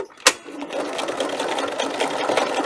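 A sewing machine stitches a fabric book protector up close, a fast steady whirring hum after a sharp click at the start, with faint talk in the background.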